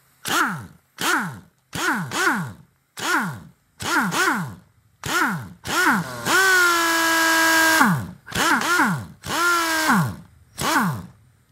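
An AirCat NitroCat 1200-K half-inch air impact wrench runs with no socket fitted, giving a series of short, loud trigger bursts that whine up and wind down, plus one sustained run of about two seconds.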